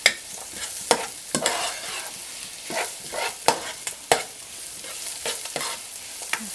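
Onions fry with pork belly in a hot pan, giving a continuous close sizzle broken by sharp scraping and clacking strokes as the mix is stirred, with no voices.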